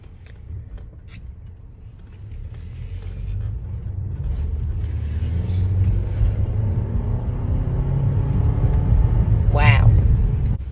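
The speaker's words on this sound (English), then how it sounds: "Well, you have a nice engine sound." Turbocharged four-cylinder engine of a Volvo XC90 T6 SUV heard from the cabin, a low steady rumble that swells gradually as the vehicle accelerates.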